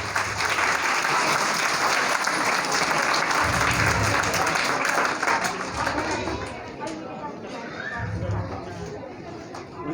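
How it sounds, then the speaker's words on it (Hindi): An audience at an Islamic educators school ceremony claps loudly and continuously, a dense wash of applause mixed with crowd chatter and children's voices, easing slightly toward the end. "तालियों की गूंज ज्यादा होनी चाहिए"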